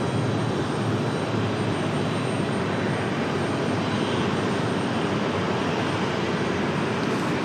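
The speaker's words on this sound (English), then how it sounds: "JetBlue 726 coming up from Fort Lauderdale in A320-200." A JetBlue Airbus A320-200 jet arriving from Fort Lauderdale at Raleigh-Durham International Airport, its engines a steady, loud broadband roar that holds at an even level for the whole span, close by and with no voices over it.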